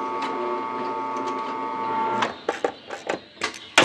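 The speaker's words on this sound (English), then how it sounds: "With the top bracket in position, our holes can be marked, punched, and drilled." Holes are drilled in a radiator top bracket on a Series 1 Land Rover under restoration: a steady, close motor whine for about two seconds, then a string of sharp clicks and brief mechanical bursts.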